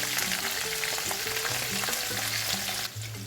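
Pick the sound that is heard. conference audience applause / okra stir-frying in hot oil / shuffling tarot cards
okra stir-frying in hot oil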